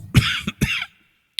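Two harsh coughs in quick succession, close and fairly loud, followed by silence and a tiny click.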